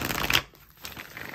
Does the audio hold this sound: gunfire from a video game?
no